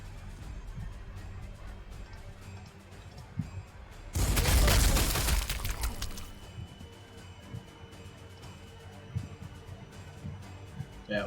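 A grenade goes off in the strategy game Warhammer 40,000: Sanctus Reach, a loud, broad blast lasting about two seconds that stands out sharply against quieter battle noise and scattered clicks.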